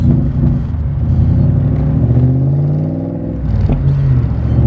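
Coyote-powered Backdraft Cobra roadster driving behind slow traffic, its V8 engine a loud, close, continuous rumble that rises and falls slightly with throttle.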